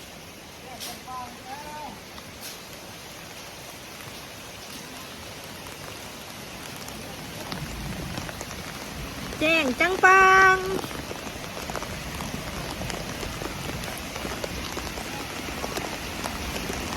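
Steady rain patters on leaves and surfaces around a pig pen throughout, with a voice speaking briefly partway through and a few clattering sounds.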